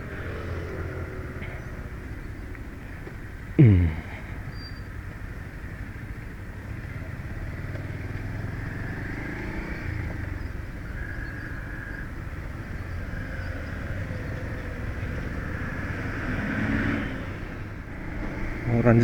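Road traffic passes around a rider on a Pulsar 150 motorcycle travelling from Nagercoil to Coutralam, a continuous engine and wind rumble with vehicles going by and a sharp transient near the start, steady and close throughout.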